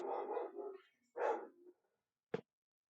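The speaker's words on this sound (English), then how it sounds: "He gets a thrill crossing the fence up on near that dog just to get him." A dog barks in short bursts at the mailman crossing the fence, two harsh barks fairly close, then a brief sharp yelp after a pause.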